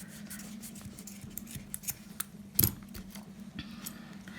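Scissors snip the end of the thread on a beaded necklace made from thrifted jewellery, one sharp close cut amid faint light clicks and handling noise.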